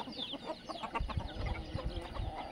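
Desi Aseel roosters and chickens on a free-range farm cluck and murmur close by in a soft, continuous stream of short calls over faint outdoor background noise.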